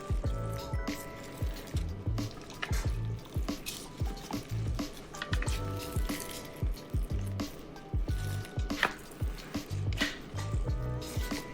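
Cake pop filling rolled out with a large cookie rolling pin over a pan, a repeated soft squishing and pressing rhythm of regular strokes, close up with no talk.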